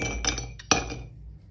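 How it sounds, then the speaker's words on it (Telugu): Ice cubes drop into two glasses, making a couple of quick bright clinks close by, a smaller clink between them, then fading to quiet. "ఇప్పుడు 2 గ్లాసులు తీసుకుని దాంట్లో ఐస్ క్యూబ్స్ వేసుకుందాం ముందుగానే."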